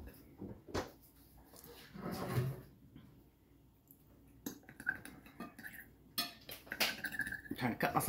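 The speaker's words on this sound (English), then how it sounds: "Trying to cut my sausages now." A knife and fork cut sausages on a plate, giving close, irregular clinks and scrapes of metal on crockery with short pauses between strokes and soft background murmuring.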